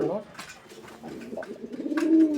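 A pigeon, a male of a large show breed at a pigeon fair, coos in soft, low, rolling calls close by, alone, amid faint background chatter.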